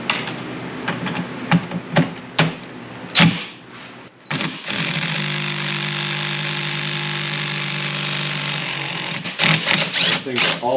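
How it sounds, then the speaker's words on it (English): A pneumatic impact gun works on a car's steering wheel bolt: several sharp short bursts, then a loud, steady whirring run of about five seconds, with people talking nearby before and after. "there is a bolt there that we'll probably use the impact gun on to get off"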